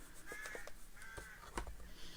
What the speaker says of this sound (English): There are lots of birds out there.